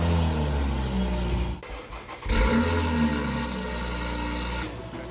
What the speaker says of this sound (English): Now, after hearing the car start for the first time, I was super excited because that sounds a bit special.